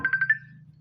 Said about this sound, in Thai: ขออภัยนะคะ มีสายเข้ามา